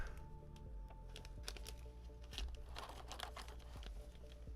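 Crinkling plastic of a Pokémon card surprise bag being opened up close, with a busy, irregular rustle and crackle throughout over a faint low hum.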